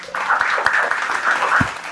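A studio audience at a televised quiz reality show claps after a correct spelling answer, giving a short, close burst of applause with a faint low thump near the end.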